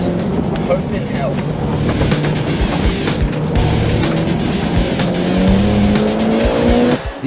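A Mitsubishi Evo FQ-400 launches from a standing start through a slalom, its engine roaring loudly and steadily while tires squeal in rising, sliding tones, close and sustained throughout.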